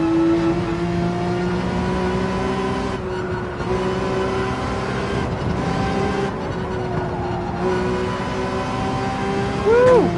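A race car engine in Gran Turismo 7 at Spa revs up steadily and loudly, its pitch climbing through the gears, with brief dips at the shifts and a final rising whine near the end.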